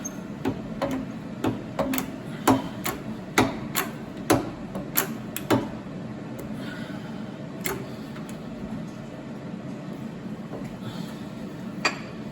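An old Dake press working a snowblower cable end in a machine shop, with a run of sharp metallic knocks and clacks at an irregular rhythm over a low background hum, then mostly quiet.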